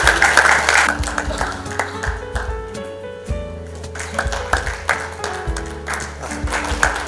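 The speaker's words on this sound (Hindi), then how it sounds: "जोरदार ताली बजाइए" Enthusiastic audience applause at a Summit India and AICTE event, a dense sustained clapping that fills the hall, swelling and fading in waves with music playing beneath it.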